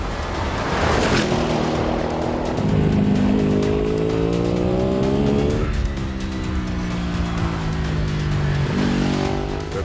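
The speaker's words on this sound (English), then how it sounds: "Owen can use the Audi's quattro traction to slingshot out the corner and down the back straight." An Audi RS6 with quattro drive races around a track against a superbike, its engine loud and close, revving up and down through gear changes with rising and falling pitch and some tyre noise.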